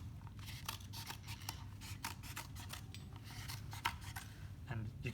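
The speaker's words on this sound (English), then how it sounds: "you can see it's pretty easy to cut with scissors." Scissors snipping through a thermoplastic sheet, giving a steady run of close, crisp cutting crunches and rasping strokes that keep going throughout, with no one talking.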